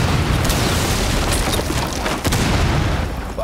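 A thermite breach charge goes off in Rainbow Six Siege with a loud, sustained roaring blast. Sharp cracks and pops break through the roar for about three seconds, with almost no talk.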